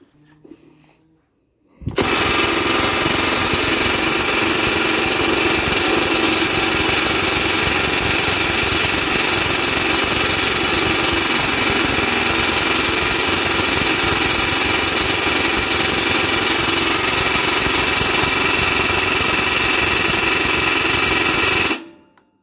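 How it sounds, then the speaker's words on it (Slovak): A Milwaukee M18 FID2 cordless impact wrench hammers loudly and continuously for about twenty seconds, struggling to loosen a bolt tightened to 126 Nm, its dense rattling drone steady from start to finish. "razový úťahovák mi už vyplo, pretože skrutka bola dotiahnutá na 126 Nm a zatiaľ ju teda nevládze povoliť"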